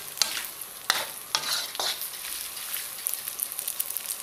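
Char kway teow rice noodles stir-fried in a hot pan, steady sizzling with sharp scraping strokes of a spatula early on, close and alone.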